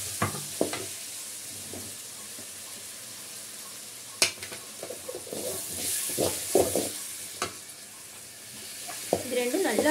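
Onions and tomatoes fry in a pan for mutton chukka, a steady close sizzle broken by repeated scraping stirs and ladle knocks, with no talking.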